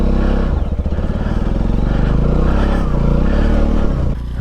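Royal Enfield Himalayan motorcycle engine labouring loudly on a steep off-road greenlane climb, a steady close rumble with the rear wheel spinning, running continuously throughout.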